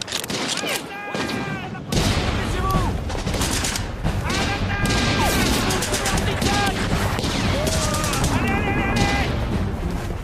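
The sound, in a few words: gunfire in an action film battle scene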